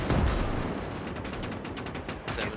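Dense machine gun fire and battle noise in the World War II game Gates of Hell rattle in a continuous loud roar, with rapid bursts layered over explosions and no talk.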